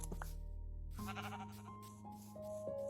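A Minecraft sheep bleats once, a short synthetic baa standing alone and close against a quiet background.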